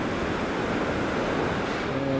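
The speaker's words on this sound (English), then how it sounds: "The breeze here is amazing when you're at sea." Ocean waves and a sea breeze on the open deck of the Scarlet Lady cruise ship make a steady, loud, broadband rush with no speech.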